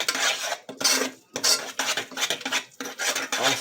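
Loaded mashed potatoes with sour cream being stirred in a bowl, giving a steady run of scraping, clinking utensil strokes against the dish in rhythmic bursts, close and fairly loud with no talking.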